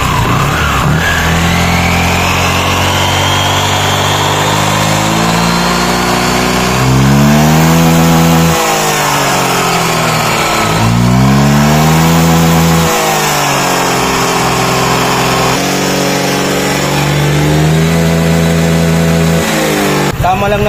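A scooter engine revs loudly and continuously, testing a CVT tuning with tri-combination flyballs, its pitch climbing and falling through repeated throttle swells, with no break.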